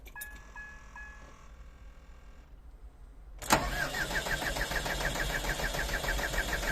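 A green tractor engine cranks and fires abruptly, then settles into a loud, steady, rhythmic chugging idle. Before it starts there is a quieter stretch with faint tonal hum.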